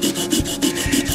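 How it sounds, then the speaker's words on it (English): Wood rubbed back and forth by hand with 150 grit sandpaper held under a fingertip, making a close, steady scratchy rasp in repeated strokes with no pauses. "sand the back off. Sand it down a little bit."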